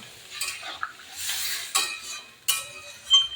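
Pointed gourd and soybean curry with potatoes stirred in a pan after water is added, spoon scraping and clinking against the metal in several close strokes over a faint sizzle.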